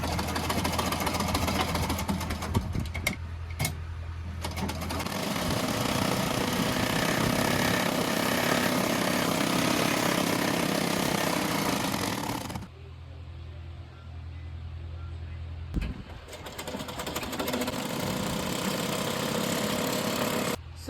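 A sewing machine stitches fabric with interfacing on a garment, its motor buzzing in long continuous runs that stop briefly and then resume, heard up close.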